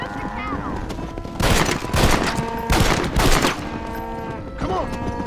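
Bursts of gunfire in Red Dead Redemption while cattle are herded, with loud shots firing in quick clusters over the ongoing game sounds and voices talking.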